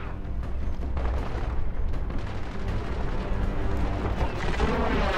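A turret in Gears of War 4 on Xbox One fires a continuous, heavy barrage, with rapid booming shots blending into a loud, unbroken roar for several seconds.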